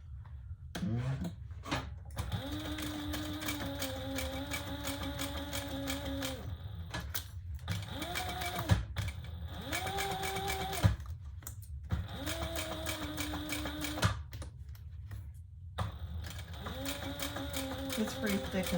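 A sewing machine topstitches a thick leather sling bag in several bursts of whirring, rapid stitching separated by pauses, with a voice talking faintly in between.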